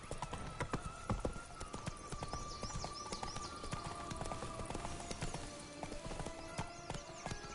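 Roach the horse gallops in a video game, with rapid clip-clop hoofbeats rolling steadily and loud over constant game noise, plus a brief whinny in the middle.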